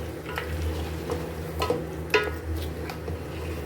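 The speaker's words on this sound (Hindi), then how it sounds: "अब इसको हम अच्छे से मिक्स कर लेंगे।" Goat trotters fry in a pot while yogurt and paya masala are stirred through them. A steady low sizzle runs underneath scraping strokes and a few light clinks, close and continuous, with no voices.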